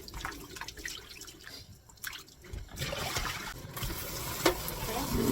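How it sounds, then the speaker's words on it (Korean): Seaweed stems are rinsed under cold running water at a sink, with soft splashing and trickling that grows fuller and steadier in the second half, alongside faint handling noises. "찬물로 두세 번만 깨끗이 씻어서"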